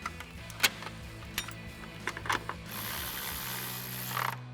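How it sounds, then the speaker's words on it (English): A ratchet with a 10 mm socket tightening a bolt on a Tacoma grille light install, faint quiet clicks in short spaced bursts followed by a steadier run of ratcheting. "We can tighten this down with our 10 mil socket."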